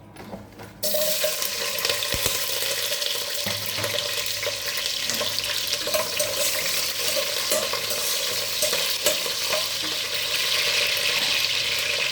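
Green chilies and onions frying in a pan, a sudden burst of sizzling after a brief quiet start that then holds steady and loud, close up, with occasional stirring scrapes and no voices.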